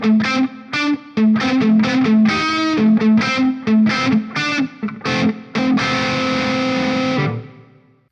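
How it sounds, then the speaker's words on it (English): Electric guitar played through a ToneLib Metal reverb effect, heavily distorted chords and single notes in a loud, busy phrase, ending on a sustained chord that rings out and fades into a reverb tail. "Let's check out the reverb."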